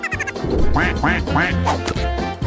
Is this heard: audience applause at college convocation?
no